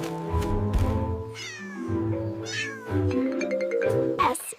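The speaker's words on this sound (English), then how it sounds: "R is for rusty spotted cat." A rusty spotted cat meows in a string of drawn-out, wavering calls, close and loud, one after another with brief gaps, rising into a sharper cry near the end.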